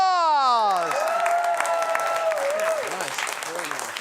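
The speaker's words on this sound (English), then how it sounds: "We're here with Danny Adler. Round of applause!" A crowd applauds steadily after a descending tonal sweep, the clapping continuous and fairly loud, with cheering mixed in.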